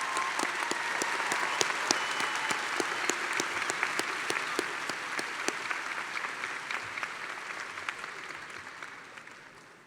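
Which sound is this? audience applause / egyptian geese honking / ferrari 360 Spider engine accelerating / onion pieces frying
audience applause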